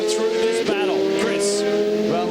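Ferrari race car at the 12 Hours of Sebring endurance race in 2007, a steady loud engine note with shifting pitch sweeps as cars pass, running continuously under commentary talk.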